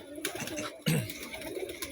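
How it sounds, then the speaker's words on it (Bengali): Pigeons coo and flutter nearby as a batch of young birds is released, a short burst of close bird calls with a louder coo near the middle over light background noise. "তো নতুন কিছু কবুতর ছাড়া হইতেছে"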